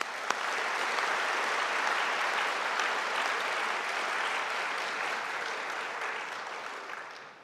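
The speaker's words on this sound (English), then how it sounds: "Please give them a round of applause." An audience at a 2021 Honors Day tapping ceremony for honor societies claps in sustained, dense applause that holds steady for several seconds before trailing off.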